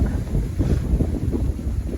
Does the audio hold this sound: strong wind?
yes